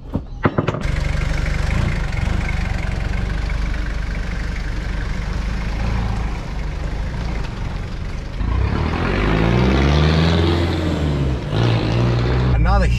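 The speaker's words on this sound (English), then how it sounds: "I'm going to take it around the block and then get that measurement." A Toyota Hilux LN106 engine runs steadily while the vehicle is driven around the block, a loud continuous drone that rises in pitch near the end as it accelerates, with someone talking over it.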